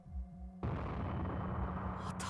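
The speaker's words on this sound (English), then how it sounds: "I heard another distant explosion and felt what might have been the building shaking." A distant explosion in the Chaos;Child video game: a sudden broadband burst at about 0.6 s that settles into a sustained, loud rumbling roar, following a quieter stretch of low musical tones.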